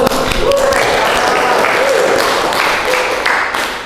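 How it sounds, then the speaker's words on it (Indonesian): Audience applause in a classroom lesson on Qur'an recitation, a dense sustained clapping that fills the whole stretch at close range, with voices mixed faintly under it. "kasih aplaus"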